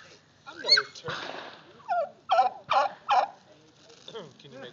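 Friendly turkeys gobble in a short burst of several loud, rapid calls, mixed with voices and an excited person talking nearby.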